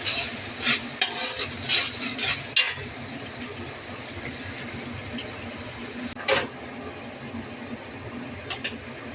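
Roasted onion and dried chilli spice paste frying in a pan for roasted chicken biryani, with a sizzle under repeated scraping stirs that come mostly early on and a sharp clank near the end.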